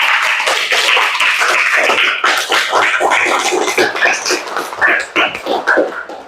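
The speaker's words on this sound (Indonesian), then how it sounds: "tepuk tangan buat Cianita ya" Classroom applause for a student during a fractions lesson, many hands clapping steadily and fairly loud for about six seconds, with a few voices mixed in.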